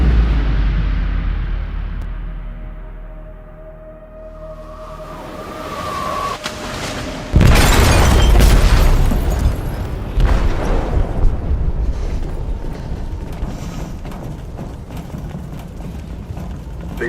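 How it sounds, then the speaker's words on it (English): A loud explosion tears through a ship's hold in Detroit: Become Human, a sudden booming blast after a rumbling, tense stretch, followed by a sustained roar and crashing debris that slowly settles into heavy low rumble. "They detonated an explosive in the hold."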